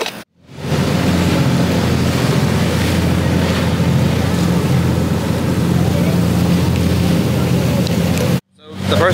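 A tour boat motors across the sea off Palawan in the Philippines, its steady engine drone and rushing water and wind sustained loud and close for several seconds, cutting off abruptly at both ends.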